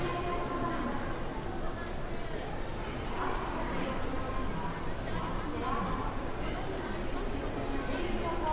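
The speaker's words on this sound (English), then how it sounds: "What I've got here is a recording of people walking in a shopping mall" A shopping mall crowd walks in a steady, dense wash of footsteps and indistinct chatter, with occasional louder voices surfacing from the even, reverberant background.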